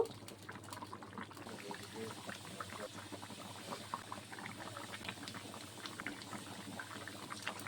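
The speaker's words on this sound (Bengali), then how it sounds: "দেখুন তরকারির ঝোলটি কিন্তু ফুটে গেছে।" Fish curry gravy with rohu boils in a pan at home, bubbling and popping steadily at close range throughout at a quiet level, with no voice heard.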